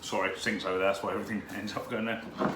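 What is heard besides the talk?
No distinct noise like a dog, phone or traffic.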